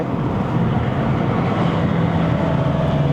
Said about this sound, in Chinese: 唯一一点就是我想 complain 就是它的引擎的声浪不好听